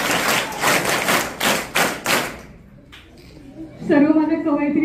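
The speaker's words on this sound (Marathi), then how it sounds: "जोरदार टाळ्या होऊन जाऊ द्या." Enthusiastic audience applause at a Guru Purnima poetry gathering held at an ashram school in Niphad, a dense, loud clatter of clapping for about two and a half seconds that dies away before a voice begins speaking.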